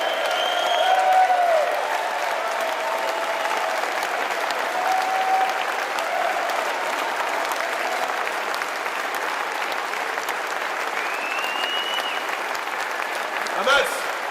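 An audience at a Brexit Party candidate event applauds in a steady crowd clapping wash that continues the whole way, with a few faint tonal sounds and brief voices mixed in.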